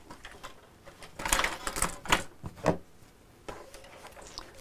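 A sewing machine stitches around the edge of a fabric gnome kit panel in short bursts of mechanical whirring and clatter, several quick runs close by with pauses between.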